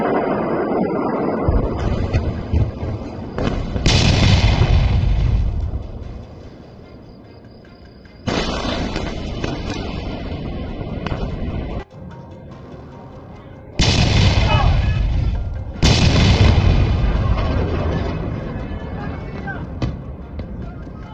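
Explosions and booms from attack footage during the Iran–Israel escalation hit in a few heavy bursts, each a loud, rumbling blast with crackling debris that fades into quieter stretches, amid agitated, muffled voices.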